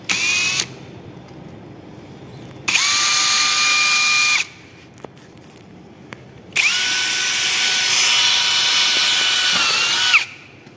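A power drill bores into a workpiece inside a channel, three bursts of loud high-pitched whirring close by, separated by short quiet gaps, the last burst the longest.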